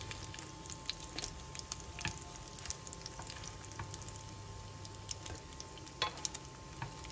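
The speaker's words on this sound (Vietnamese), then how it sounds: "Nem chả giò rán" Spring rolls filled with pork deep-frying in a pan of oil: a quiet, steady sizzle with scattered pops and crackles, heard close up with no talking.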